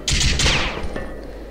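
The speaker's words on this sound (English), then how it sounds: "I'm supposed to weave my way through between the barrages of gunfire" Video game gunfire from From Dusk till Dawn erupts in a loud, dense burst of rapid shots for about half a second, then fades into a lingering echoing tail with a faint ringing tone.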